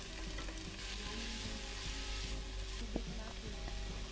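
Carrots stir-frying in a pan with vegetables for pancit Cabagan, a steady close sizzle and crackle of hot oil with faint scraping and stirring clatter throughout.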